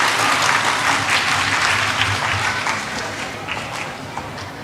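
Audience at a school graduation ceremony applauding steadily as students come on stage, a dense, loud wash of clapping that slowly fades, with faint voices mixed in.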